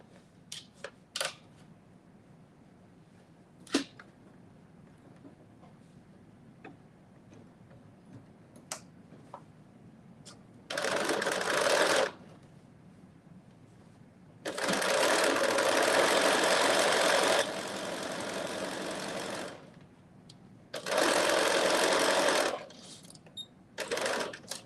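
A domestic sewing machine stitches across fabric in three runs of steady whirring, the middle one longest, with quiet clicks and handling noises between them.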